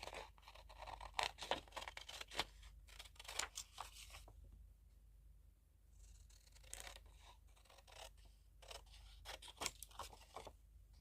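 Scissors snip around a paper die-cut frame in a run of quick, close crunching cuts, with a short quiet pause midway before the cutting resumes.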